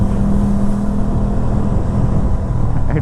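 Motorcycle ridden very slowly, a steady close low engine drone with a constant hum throughout, heard from a camera mounted on the bike, with no talk.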